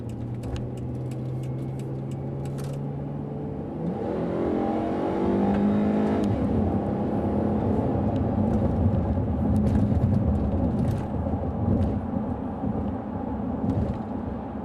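A Dodge Challenger SE accelerates onto the highway, its engine note climbing in pitch and loudness from a steady cabin hum into a sustained rising rev, heard from inside the car with no talk.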